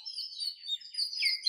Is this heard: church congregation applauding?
no